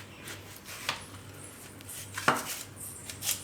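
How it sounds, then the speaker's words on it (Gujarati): A knife cuts a hard suran (elephant foot yam) in half, giving a few sharp, isolated cuts and a firm knock on the board amid quiet kitchen background. "આને 2 કટકા કરી નાખશું."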